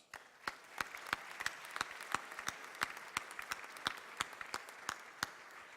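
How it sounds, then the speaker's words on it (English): Light applause from a modest crowd at a roast event, steady and fairly faint, with individual claps clearly distinguishable throughout. "Please give a round of applause for Boston City Councilor Mike Ross."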